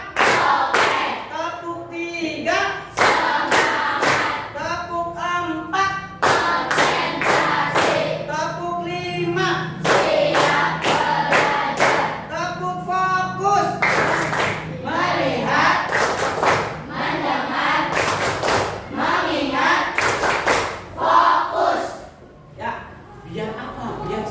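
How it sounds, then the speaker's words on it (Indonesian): Rhythmic hand clapping in patterned beats mixed in with a man's lively Indonesian speech during a classroom lesson, the claps coming in quick groups near the microphone. "Tepuk 1, tepuk 2"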